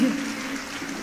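Audience clapping at a Hindi-Urdu poetry recital (kavi sammelan), a brief steady burst of applause from a seated crowd, moderately loud and continuous throughout.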